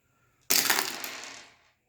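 Four dice rolled onto a table for a Dungeons & Dragons stat roll, a sudden bright rattle and clatter that tumbles for about a second before settling into quiet, close up and alone.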